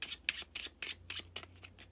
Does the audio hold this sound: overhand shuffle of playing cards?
yes